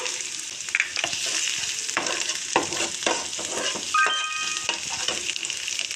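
Turmeric tipped into hot mustard oil left from frying fish, a busy, close crackling sizzle broken by repeated spatula stirs and scrapes against the pan, steady and fairly loud with no voices.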